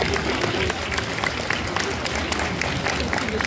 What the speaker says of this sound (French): On peut l'applaudir, mesdames et messieurs, s'il vous plaît.